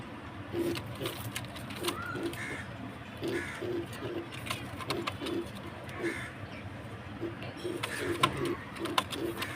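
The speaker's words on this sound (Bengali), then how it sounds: "এটা কর্মনা কবুতর এটা নর কবুতর অনেক সুন্দর" Karmona pigeons coo in soft, repeated rhythmic calls close by, with faint rustling and background ambience throughout.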